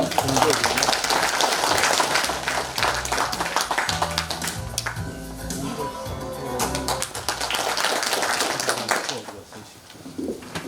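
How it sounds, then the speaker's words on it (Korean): Clapping from an audience at an academic conference, a dense patter that swells and fades with a couple of brief lulls, with some talk and murmuring mixed in. "박수로 맞이해 주십시오"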